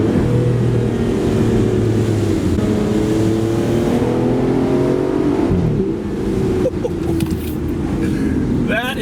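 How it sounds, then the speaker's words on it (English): A sports car, compared against a Ferrari 488, revs hard and accelerates, its loud engine note rising and falling in sweeps close by with a steady drone under occasional voices. "That is how a sports car should sound."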